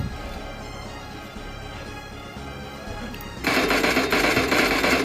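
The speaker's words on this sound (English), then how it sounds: "For sniper rifle, I want to use Mini 14 because you have a control when firing the Mini 14, like this one." A Mini 14 rifle fires in rapid bursts in a video game with a rapid-fire controller, a dense mechanical rattle that grows sharply louder and busier in the last part.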